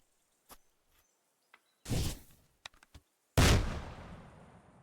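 A medieval firearm in Kingdom Come: Deliverance II, heard as two loud booming blasts, the second with a long rumbling decay, separated by a few small clicks and knocks, no talk.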